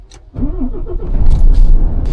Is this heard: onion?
no